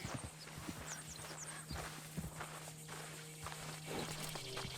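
Horses in the open world of Red Dead Redemption 2 walk with soft, irregular clip-clop hooves, faint and steady over a quiet outdoor ambience.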